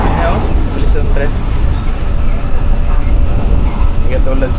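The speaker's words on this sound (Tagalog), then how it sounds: "Tapos ang bilis ng tren." Loud, steady rumble and rush of a train moving at speed in Hong Kong, continuous throughout with a faint voice or two mixed into the noise.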